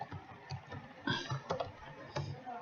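Fingers tap out a password on a keyboard, a quiet, irregular run of soft key clicks close to the microphone with faint background hiss.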